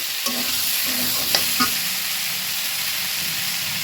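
Spice paste for a rohu fish and potato curry is stir-fried in a pan, giving a continuous close sizzle with a few light scrapes of the spatula.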